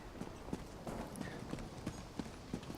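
Steady clip-clop of horse hooves at an even walking rhythm in the video game Elder Scrolls Online, fairly faint, with no talking.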